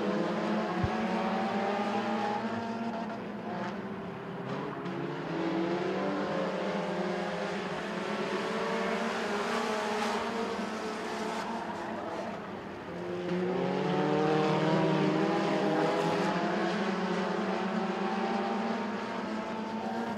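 Junior front-wheel-drive race cars circling Crossville Speedway in a feature race, a continuous loud roar of several engines rising and falling as the pack passes, with no gaps across the whole stretch.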